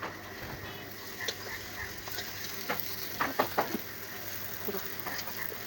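Curry with turmeric being stirred in a pan, a soft steady sizzle under repeated light scrapes and taps of the utensil, quiet and close.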